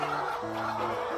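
A chicken clucks on a farm with short, moderately loud calls over a steady, noisy outdoor background.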